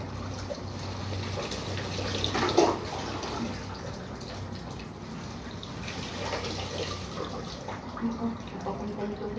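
Water from a shower pours and splashes while an elderly woman is bathed, a continuous soft hiss with faint drips and trickles, and quiet voices murmur in the background.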